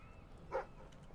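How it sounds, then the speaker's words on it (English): A dog in the video game Fable 3 gives a single short bark, faint and brief, over quiet game background sound. "What are you barking at?"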